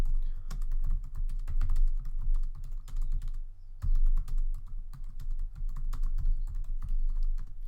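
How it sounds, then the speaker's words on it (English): Steady close typing on a computer keyboard while formatting text in WordPress, with dense rapid key clicks that stop briefly for about half a second partway through, then resume at the same pace. "So I'm just going to type in here,"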